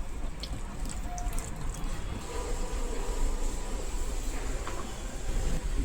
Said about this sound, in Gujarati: ભીંડાને ધોવાથી ઉપરની જે માટી હોય તે નીકળી જાય છે